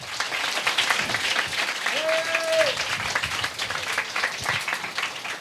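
Applause from an audience at an anti-drug gathering with children in Attappadi: dense, steady clapping from many hands, loud and continuous throughout, with a brief tonal whistle-like sound partway through.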